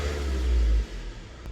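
A Ford Transit Connect 1.8 TDDI engine idles with a low, steady rumble close by, briefly swelling then settling back to an even idle.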